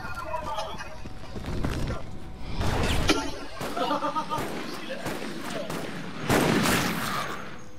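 Gunfire in the co-op shooter Resident Evil: Operation Raccoon City, irregular bursts and single shots at mid distance mixed with game effects, with players talking over the action.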